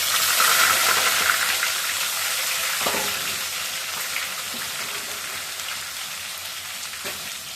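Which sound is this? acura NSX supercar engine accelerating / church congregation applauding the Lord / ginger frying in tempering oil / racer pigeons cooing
ginger frying in tempering oil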